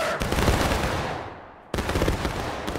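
Musket volley fire in the War of Rights video game, a dense crackle of many muskets discharging together in a loud sustained burst that fades, then a second volley erupts abruptly.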